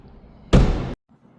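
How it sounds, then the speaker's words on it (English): A passenger door on a 2026 BMW 430i xDrive Gran Coupe shuts with a single close, solid thud, followed by a brief moment of near silence. "let's shut this door and we'll go to the driver door next."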